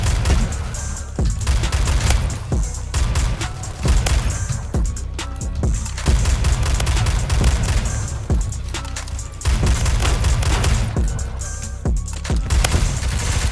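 Rapid, sustained blasts from an AA-12 full-auto shotgun in the Phantom Forces shooter game, in dense bursts with brief pauses, loud and close throughout, with other battlefield gunfire mixed in.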